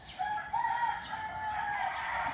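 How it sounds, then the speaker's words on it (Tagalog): A rooster crows at a moderate distance on a morning in La Union province, Philippines, one drawn-out call rising over soft rural ambience with other chickens around. "the sounds of the chickens, birds, we still can hear the sounds."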